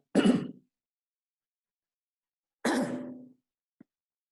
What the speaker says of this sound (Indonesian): Maaf ini batuk-batuk terus